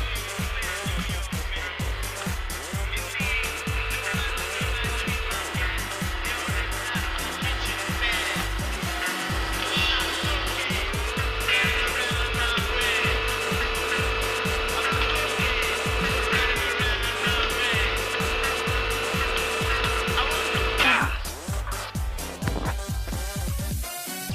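A motorbike descends Mount Chiliad in GTA San Andreas. Its engine holds a loud, steady revving drone with tyre noise for about twenty seconds, then cuts off abruptly near the end.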